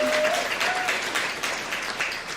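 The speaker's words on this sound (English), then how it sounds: "Everybody clap for Jane." Audience clapping at a college convocation, a steady wash of applause filling the room for the whole stretch, fairly loud with a brief faint tone near the start.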